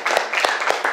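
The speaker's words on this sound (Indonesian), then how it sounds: "tepuk tangan buat Sally" A class claps for a student named Sally, a loud, close patter of several hands with uneven bursts.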